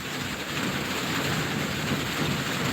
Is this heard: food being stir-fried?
no